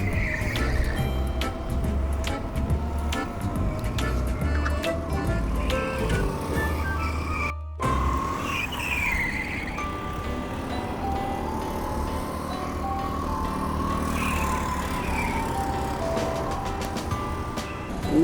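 Go-karts racing around a track, engine whine and motor drone rising and fading as karts pass, continuous and moderately loud with a brief cut partway through, no talking.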